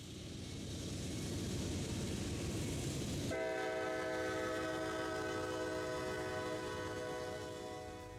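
A BNSF freight train passes close by, its rumble building and then joined by a loud, sustained horn chord that holds to the end, with no voices.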